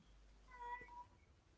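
A pet cat named Shax gives a short meow in the background, faint and brief, heard once over a low steady hum with no talking.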